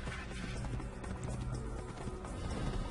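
Horse hooves trot through a busy in-game street scene in Assassin's Creed, a steady clip-clop rhythm blended with crowd ambience and background music at moderate level.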